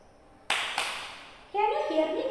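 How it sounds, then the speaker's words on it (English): A teacher's hands clapping in a kindergarten classroom: two sharp claps close together, followed by a voice speaking. "Can you hear me clapping?"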